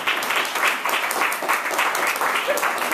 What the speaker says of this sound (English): let's give a round of applause for Michael Bay.